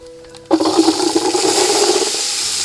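Shallots dropped into hot oil for a beef ribs biryani, bursting into a loud, steady sizzle that starts abruptly and keeps hissing without a break.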